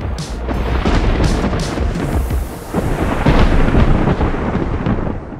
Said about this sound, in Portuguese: Então, adicione relâmpagos à equação. Provavelmente seria parecido com isso.